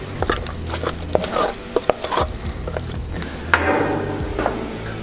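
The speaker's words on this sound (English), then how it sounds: "I just wanna get this mixed up." Spoon scraping and clinking inside a pot of refried beans, irregular stirring strokes with soft sizzling underneath, close and fairly loud.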